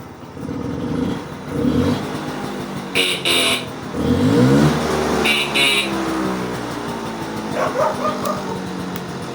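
A Vespa PK 50 XL scooter's small two-stroke engine starts with a rising rev, then settles into a buzzing idle with further revs, loud and close, without talk.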